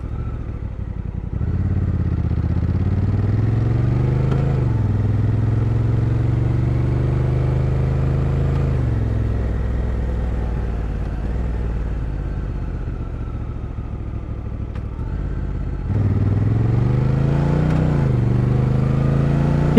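A Honda Africa Twin ridden on an evening road, its engine droning steadily up close. The pitch rises and falls with gear changes, and there is wind rush and no talking.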